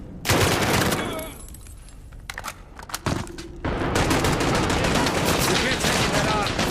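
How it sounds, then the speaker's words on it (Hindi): Automatic gunfire rattles in Call of Duty Modern Warfare, with dense bursts, a brief lull of scattered single shots, then sustained loud firing. "फरा बस मुझे कवर फायर देते रहना।"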